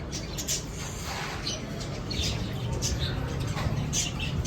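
Lovebirds give short, high calls and flap their wings in soft bursts over a steady, noisy indoor background, with no speech.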